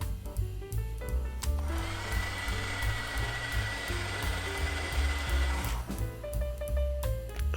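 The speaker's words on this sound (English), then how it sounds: "A little bit heat shrinking on the wires of the fuel pump." A heat gun shrinks heat-shrink tubing on the fuel pump wires of a Nissan S13 fuel tank, giving a steady blowing hiss that runs for about four seconds in the middle over a low background hum.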